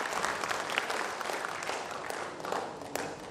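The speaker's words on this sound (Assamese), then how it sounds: "এবাৰ তেখেতৰ কাৰণে দিল বুলি জোৰদাৰ হাত চাপৰি বজাব।" A hall audience at a motivational speech event in Assam breaks into sustained, dense applause: many hands clapping loudly and steadily for the whole stretch, with no pause.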